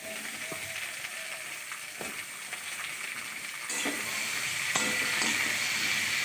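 Pumpkin and eggplant sizzle in a pan of oil for a five-vegetable curry, a steady close hiss that grows louder partway through, with occasional light taps of a spoon.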